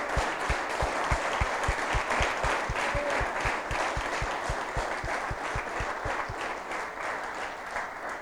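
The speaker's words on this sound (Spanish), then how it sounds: "Dale un aplauso a Dios." A church congregation at a retreat applauds in a steady, sustained wash of many hands clapping, with a distinct rhythmic clap beat running through it, heard from a moderate distance with no talking.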